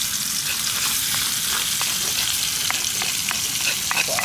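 Ground spices frying in hot oil in a pan, a loud, continuous crackling sizzle with scattered pops and light stirring, close by and not covered by speech.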